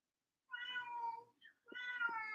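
A cat meows twice, close and clear, with a short pause between the two drawn-out calls in an otherwise quiet room.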